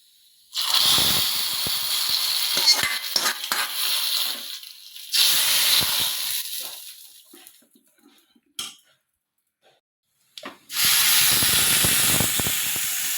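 A pressure cooker vents steam in three loud, rushing hiss bursts separated by near-silent pauses, with a few clinks in between.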